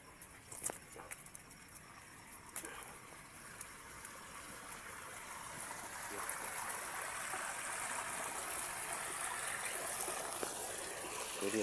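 Water gushing and pattering as it flows into a shallow pool, a steady trickling rush that grows a little louder partway through, heard up close with no talking.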